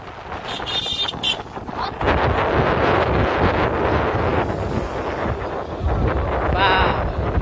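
Strong wind gusts buffet the microphone in a constant loud roar, with faint high-pitched bird calls briefly breaking through.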